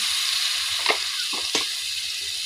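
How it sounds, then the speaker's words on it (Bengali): Beef liver, lung and fat fry in a pan with a steady hiss and a few short stirring scrapes, close and moderately quiet, with no talk. "এবার এগুলো আমি এক মিনিটের মতো ভেজে নিব"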